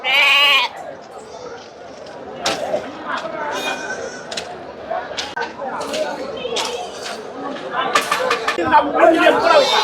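Sheep bleat repeatedly amid a busy goat and sheep market in Ranipettai, their calls mixed with crowd chatter and nearby voices talking.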